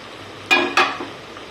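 Potatoes dropped into hot oil in a pan while making pea pulao, with two sharp bursts of sizzling that settle into a softer, steady fry.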